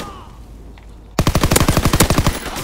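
Machine gun fire in a video game: quiet at first, then a sudden loud, rapid burst of roughly a dozen evenly spaced shots lasting over a second.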